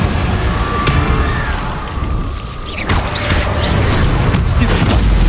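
Confringo fire blast spell cast in Hogwarts Legacy combat, heard as sharp explosive bursts and whooshes, with a strong impact near the three-second mark, over a steady, dense bed of battle noise.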